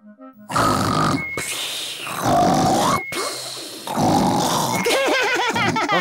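A voice imitates a cartoon pig's loud snoring after a meal: deep, rumbling snores in repeated bursts, separated by brief silent breaths.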